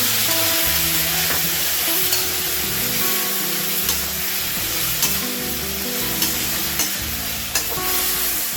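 Steady, loud sizzling and frying of a drumstick chorchori in a pan as a little water goes in, hissing continuously throughout with faint clinks of stirring.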